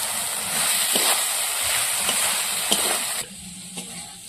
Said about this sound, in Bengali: থেকে তেল ছেড়ে দিয়েছে, ভেজে রাখা ঢেঁড়স গুলো দিয়ে দেবো।